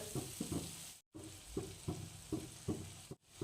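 Green chilies cook in a pan with lemon juice and spice, giving a soft sizzle broken by a spoon scraping and knocking against the pan several times.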